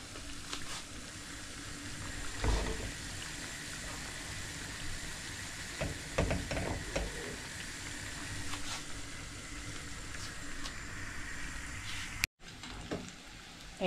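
Gulab jamun balls deep-frying in hot oil give a steady, low sizzle throughout, with a few sharper bubbling bursts and a brief dropout near the end.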